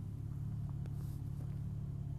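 A pickup truck engine idles in the background, a steady low rumble that stays even and continuous throughout, fairly faint and with no talk over it.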